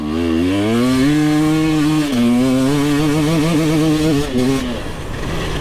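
An enduro dirt bike engine with a Coober factory ECU revs hard and close, pitch climbing and dropping through gear changes, then settling back to a lower idle.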